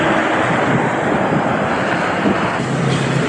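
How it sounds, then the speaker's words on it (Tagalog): Strong wind buffets the microphone on a bike ride, a loud, steady roaring rumble that fills the whole stretch and covers everything else. "Ang lakas ng hangin eh."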